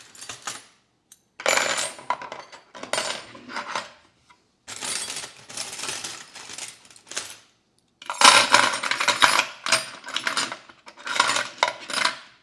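Allen keys clatter as they are dropped into a 3D-printed T-handle hex wrench rack, several bursts of metallic jangling and clinking, close and fairly loud, separated by short pauses.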